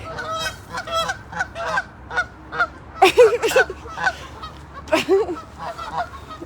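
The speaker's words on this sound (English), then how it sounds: "Geese crossing." Several geese honk repeatedly, loud and fairly close, their calls overlapping in irregular bursts with some louder squawks midway.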